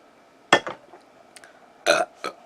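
Two loud, close burps, each followed by a shorter, weaker one, separated by a quiet gap.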